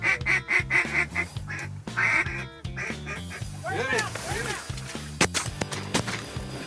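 Ducks quack repeatedly during a waterfowl hunt, a rhythmic series of loud nasal calls up close, mixed with other bird honks and outdoor noise; no talking over them.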